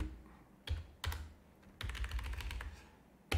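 Keys on a computer numeric keypad are tapped in short bursts, close and crisp, with a fast flurry of strokes in the middle and a single tap at the end.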